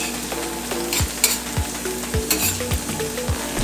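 Onions frying in a pan on a stove at just under medium-high heat, a loud bright sizzle with regular scraping stirs about every half second.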